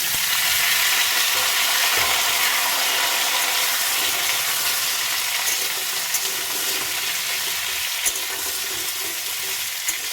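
Cut pumpkin tossed into hot oil in a frying pan and stirred, giving a loud, dense, continuous sizzle heard up close with faint scraping of the spoon underneath.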